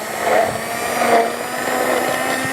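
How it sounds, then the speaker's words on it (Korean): A steady motorized whir runs throughout, like a blender spinning at constant speed, moderately loud with slight swells in intensity. "3분 동안 이걸 믹서를 시켜줍니다."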